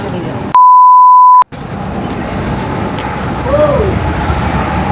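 A loud, steady censor beep of about one second masks swearing at a busy Vancouver street intersection, cutting off sharply before traffic noise and distant street sounds resume.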